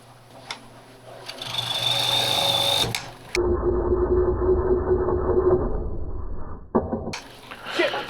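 A black cherry bowl is roughed out on a lathe with a spindle gouge, giving a loud whirring, scraping cut with a steady tonal hum that stops and restarts in bursts over a few seconds.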